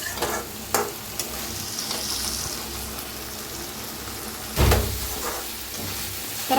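Cluster beans stirred and cooking in an uncovered pan, a continuous close sizzle with a few louder spoon scrapes and stirring bursts.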